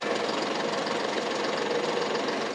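A compact tractor engine runs loud and close, a steady rumbling drone with a rapid knocking chug throughout, no speech.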